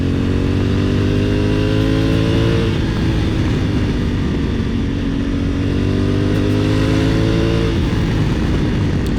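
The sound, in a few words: motorcycle engine accelerating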